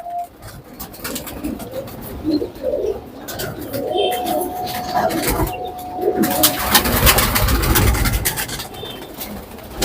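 Allahabadi pigeons of a single breed line coo softly and repeatedly at a hobbyist's loft in Allahabad, with other birds chirping faintly in the background and brief rustling and rubbing noises nearby.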